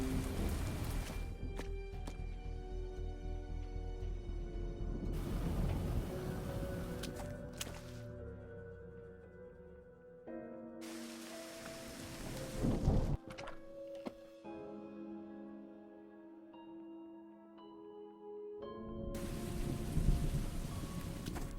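Steady rain and rumbling thunder from a stormy night scene in the video game Murder by Choice, a continuous wash of downpour broken by sharper thunder cracks and bursts of music-like tones, with no talking.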